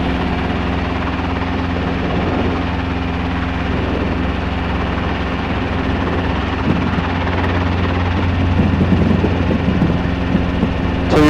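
A Robinson R22 helicopter drones steadily from inside the cabin during training approaches, its engine and rotor hum loud and continuous throughout, with no voices heard.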